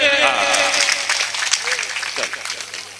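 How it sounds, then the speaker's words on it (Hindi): A crowd at a mushaira and kavi sammelan claps with hands raised, a loud, dense wash of applause up close while voices call out over it, thinning slightly toward the end. "दोनों हाथ आप सब लोग दोनों हाथ हवा में खड़े कीजिए और ताली बजा दीजिए"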